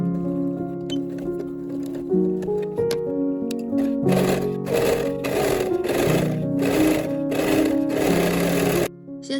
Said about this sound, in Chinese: 把它跟2个前片布料正面对在一起，然后从肩膀上给它们缝起来